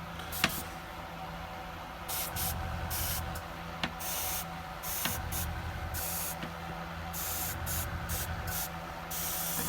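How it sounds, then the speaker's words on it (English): An airbrush hisses softly nearby, spraying paint onto a miniature model in short on-and-off bursts with faint clicks between them. "because obviously we're spraying paint on"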